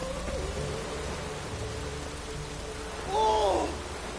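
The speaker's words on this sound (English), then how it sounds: "looked like it would rain, and here it is" Steady rain falls in The Witcher 3, an even, close hiss throughout, with a brief hooting, warbling call rising over it near the end.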